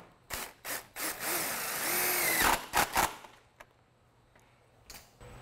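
A power drill drives self-tapping screws into a door astragal, with several short whirring bursts, then a longer sustained run and a few brief pulses before quieting, close and alone.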